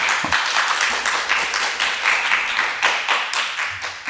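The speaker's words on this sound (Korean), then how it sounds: "박수로 감사의 표시를 해주셨으면 좋겠습니다." Steady audience applause closing a lecture event, many hands clapping in a continuous, fairly loud rippling patter with no voices over it.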